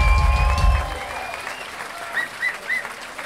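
A crowd applauds at a concert at SO36 in Berlin, a short burst of loud clapping that quickly fades into quiet with a few faint high chirps.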